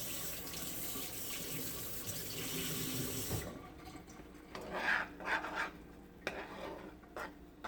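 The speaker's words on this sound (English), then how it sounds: "Washing my spoon off." A spoon is rinsed under a running kitchen tap, with steady close water rushing for a few seconds before it cuts off, leaving faint clinks and handling sounds of the spoon and sink.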